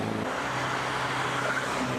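A classic car at a historic rally drives by with a steady, fairly loud engine drone that holds evenly for a couple of seconds.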